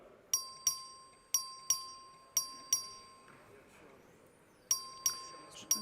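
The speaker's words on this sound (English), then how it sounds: "The clerk will ring the bell." A vote bell in a state legislative chamber rings in crisp, bright dings, in pairs with a steady rhythm, loud and clear over a quiet room with faint background murmur.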